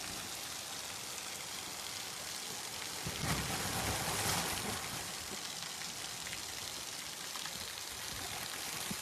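Night-time rain falls steadily on a farm, with a dull rumble of thunder swelling midway through the constant patter.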